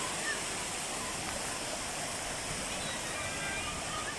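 Spring water from a mountain pours and rushes in a constant, even wash of broadband noise, steady and unbroken, with no clear voices over it.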